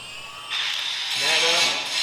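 Power tool whirring as it tightens bolts on a beadlock wheel during a tire change, a short steady high-pitched run that rises slightly, with a voice talking over it.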